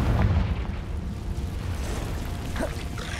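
In Hogwarts Legacy, a Confringo fire spell bursts into a booming explosion at the start, followed by a rumbling, crackling blast that persists through the rest of the clip amid game combat.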